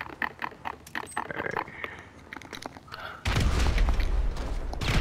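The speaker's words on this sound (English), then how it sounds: "Throw a grenade up there." A heavy grenade blast from GTA 5 booms out after several seconds of scattered thuds and clicks, the explosion roaring loud and broad and sustaining to the end.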